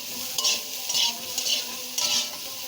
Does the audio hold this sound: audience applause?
no